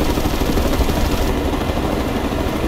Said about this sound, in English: Firing on the helicopter!